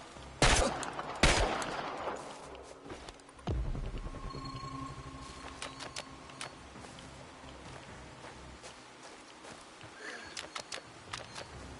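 Gunfire in the video game Chernobylite: a few sharp, loud shots crack out close together at the start, then fade into a quieter stretch with scattered faint pops and ambient hum.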